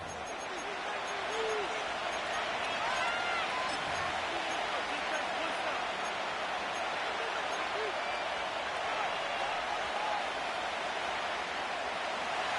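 Dense stadium crowd roar fills an EA Sports NFL game during a Philadelphia versus Buffalo matchup, a loud, continuous wash of cheering and noise with no break.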